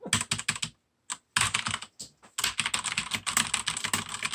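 Rapid typing on a computer keyboard clatters close and crisp in quick bursts of keystrokes broken by brief pauses, loud and alone without voices.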